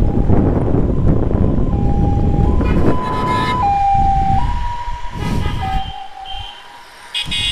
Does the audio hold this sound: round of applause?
no